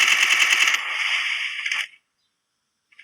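Gunfire from the Free Fire video game: a rapid, loud automatic burst of shots with a ringing tail that cuts off, followed by silence and a faint click near the end.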